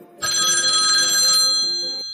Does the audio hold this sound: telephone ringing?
yes